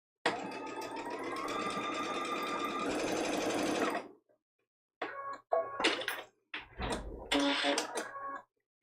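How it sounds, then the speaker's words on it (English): A sewing machine stitching fabric for a foundation paper pieced quilt block runs in a steady close whir for about four seconds, falls silent, then returns in short stop-start bursts with small clunks of back stitching. "I'm just going to stop there and do some back stitches."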